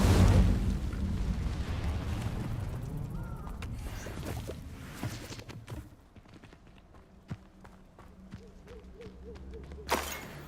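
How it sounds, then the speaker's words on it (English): An Incendio fire spell is cast in Hogwarts Legacy, a loud whooshing burst of flame at the start that fades into crackling embers and scattered sharp snaps, with another bright flare near the end. "Incendio!"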